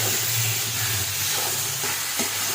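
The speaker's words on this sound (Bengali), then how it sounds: "ধুয়ে রাখা গোবিন্দভোগ চালটা আমরা মধ্যে দিয়ে দিলাম। এবার ভালো করে এটা আমরা 1 মিনিট পর্যন্ত ভালো করে" Gobindobhog rice stir-frying with spices in a hot pan for a Bengali murighonto, giving a steady, close, continuous hissing sizzle without pause and with no voices.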